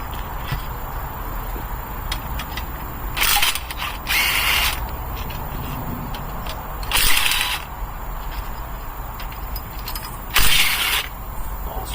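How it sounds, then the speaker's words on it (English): A ratchet loosening rocker arm bolts on a 1965 Thunderbird engine: four separate bursts of rapid clicking, each lasting about a second, with quiet gaps between them and no talk, close and clear. "He's going to remove the rocker arms."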